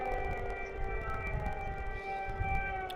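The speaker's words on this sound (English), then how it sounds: "we're hearing the sirens coming across the sound" Air raid sirens wail across a city in Ukraine, faint and distant, with steady tones held under a low rumbling background.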